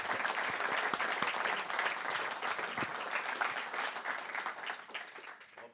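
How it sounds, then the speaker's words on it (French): Audience applause in a lecture hall after a science talk on dark matter, dense steady clapping from many hands that thins and fades toward the end. "On peut déjà applaudir."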